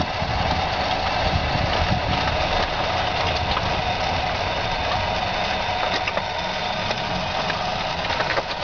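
A remote-controlled golf cart runs at full speed with a steady, continuous motor hum and rattling vibration close by, unbroken for the whole stretch.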